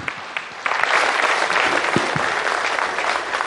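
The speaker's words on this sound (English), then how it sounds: "I think Dr. Jaishankar deserves a much rounder applause." Audience applause for India's External Affairs Minister Dr. S. Jaishankar at a summit session, opening with a few scattered claps before swelling into sustained, dense clapping from a large crowd that continues to the end.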